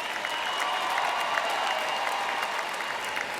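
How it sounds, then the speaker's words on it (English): Steady, dense applause from a large crowd at a university commencement ceremony for communication management graduates, even and continuous with individual claps audible in the mix. "Let's give a round of applause for all of our communication management graduates"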